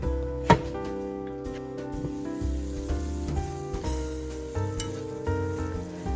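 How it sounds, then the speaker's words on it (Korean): Braised lotus roots simmering in a pot while being stirred, with clatters and scrapes of a utensil against the pot, a sharp knock early on, and a low bubbling sizzle underneath, no talk. "뚜껑 덮고 20분에서 25분 정도 졸여주시는 가운데 가끔씩 눌러붙지 않도록 위아래로 한 번씩 저어주세요"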